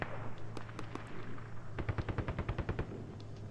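Automatic gunfire in the Squad video game fires a rapid, loud burst of about a dozen evenly spaced shots near the end, after earlier scattered distant shots over a low engine hum.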